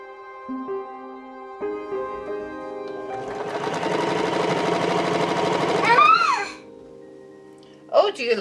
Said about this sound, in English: Oh, do you like the sewing machine?